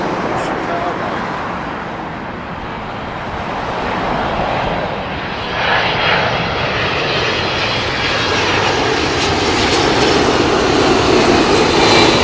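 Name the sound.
United Airlines Boeing 767 jet arriving at Heathrow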